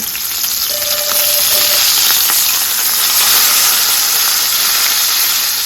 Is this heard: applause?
no